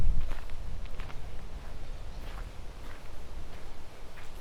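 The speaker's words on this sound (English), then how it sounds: "Should at least be able to hear my footsteps." Footsteps on grass outdoors, soft irregular crunching steps at close range under a steady low rumble of wind, with no talk.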